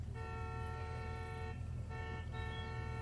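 A steady, blaring car horn in the game Jurassic World Evolution sounds almost continuously, breaking off briefly twice before resuming, over a low rumbling background.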